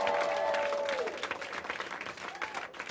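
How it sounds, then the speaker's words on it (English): A comedy club crowd applauds, a dense clapping burst that starts strong and slowly thins and fades over a few seconds. "Clap it up for my mother."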